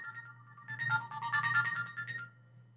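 An incoming phone call plays a ringtone of electronic melodic tones over a low steady hum. It comes in one short patterned burst lasting about a second and a half, then fades back to the hum.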